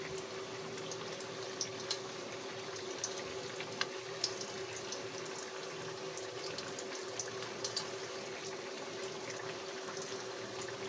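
A pot of water with potatoes bubbles at a steady simmer, a constant soft hiss with light popping, quiet and close, with nobody talking.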